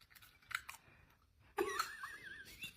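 Crunchy bites into crispy fried chicken, a few sharp crackling crunches early, then a louder burst of chewing and crunching close up, with no talk.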